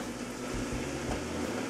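Potato wedges frying in hot oil over medium-high heat, a steady close sizzle and bubbling hiss that holds constant for under two seconds with no talk.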